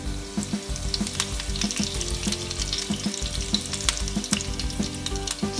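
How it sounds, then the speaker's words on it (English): Mustard seeds and curry leaves splutter in hot oil for a tadka, a close, busy crackle and sizzle with sharp pops over a steady fry. "When mustard starts spluttering, let's put some curry leaves."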